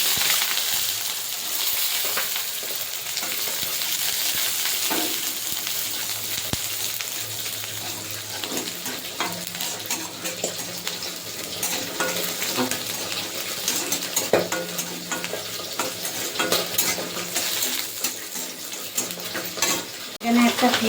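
Garlic frying in oil in a pan gives a steady, close sizzle throughout, with scattered clinks and stirring scrapes along the way.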